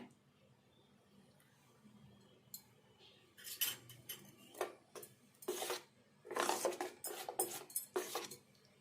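Batter for brinjal bajji is stirred and slapped by hand in a bowl, making wet squelching slaps in quick irregular bursts, close and clear against a quiet room.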